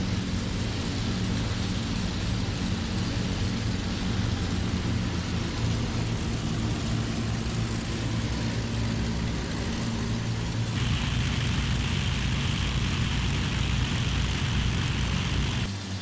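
An Avro Lancaster's piston engines drone steadily in a flight simulator during a magneto check, a loud continuous propeller roar whose pitch shifts partway through as the RPM changes.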